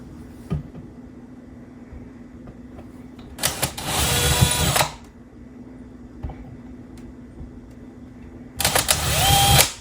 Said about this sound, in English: I'm going to use a drill just to push through the drywall so that I don't have a difficult time getting these wall anchors to seat